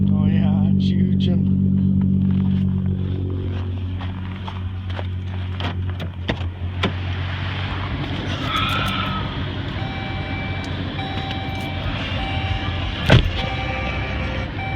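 A 2015 Dodge Journey R/T with a Borla exhaust fires up from cold, its low engine rumble settling into a steady idle while people talk nearby.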